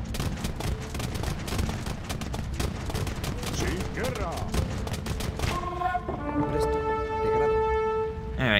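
Ranged units in Age of Empires II battle with gunfire, a dense crackle of overlapping shots and volleys that fills the scene, giving way to ringing tonal game cues near the end while someone talks over it.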